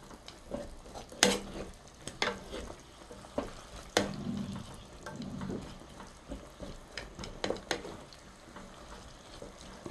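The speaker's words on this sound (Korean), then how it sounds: "조금 불을 조금 세게 해서 바글바글 끓을 수 있도록 하겠습니다" Lotus root braise with rice syrup (jocheong) and a few pumpkin seeds cooking over high heat, a spoon clinking and scraping the pan in irregular bursts over a soft bubbling simmer, close by with no talking.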